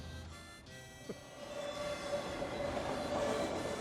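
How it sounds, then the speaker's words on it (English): A train rumbles steadily past a road crossing, its wheels and cars making a continuous close, growing roar with a faint squeal and a tonal hum riding over it. "they're going to be held up for a minute and a half while this train goes by"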